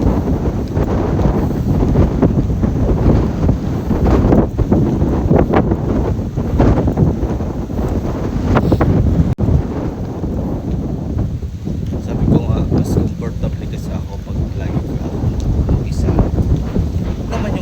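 Steady, loud wind buffeting the microphone, with a constant low rumble and gusts throughout, no clear voices.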